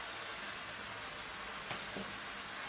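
Red potatoes for aloo bhaji frying in a pan with coriander leaves, giving a quiet, even sizzle and hiss with a couple of faint stir knocks, no voices.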